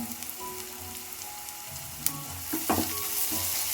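Masala sizzling as it fries in a pan, a continuous crackling hiss with a few scraping stirs near the end, close-up and without speech.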